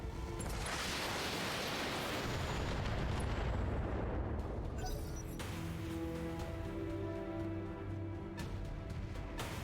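Mech weapons fire in the BattleTech video game, a heavy rolling boom and blast rumble that decays, followed by lighter metallic bursts and ringing tones, loud and dense.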